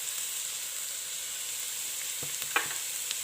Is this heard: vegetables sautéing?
yes